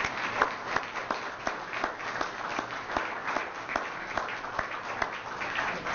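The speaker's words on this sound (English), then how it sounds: "One last round of applause." Applause for graduates standing at a professional staff development certification awards ceremony: a steady crowd of clapping hands, dense and continuous, with sharper individual claps poking out of the wash.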